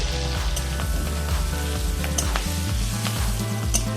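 Potato pieces frying in hot oil with slit green chilli and turmeric sizzle steadily, with a dense crackle and occasional spoon scrapes and stirring knocks close by.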